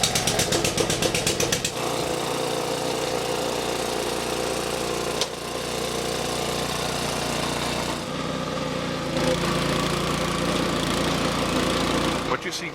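A lawn aeration machine runs steadily over golf course turf, its engine a loud, continuous mechanical drone with a rapid knocking pulse, broken by a couple of brief dips and shifts in pitch.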